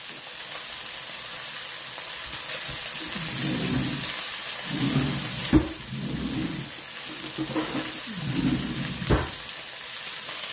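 Steaks sizzle and fry steadily in a pan, a continuous crackling hiss with soft bursts of spatter, close and fairly loud, no voices.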